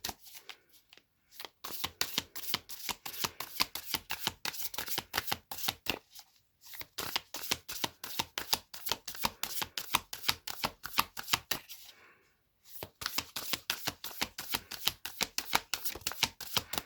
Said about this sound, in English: I'm going to pull some confirmation cards using my tarot deck.